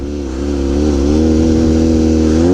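A dirt bike engine holds a steady, throaty drone while riding a circle wheelie, loud and close, with a slight rise in pitch as the throttle is blipped to keep the front wheel up.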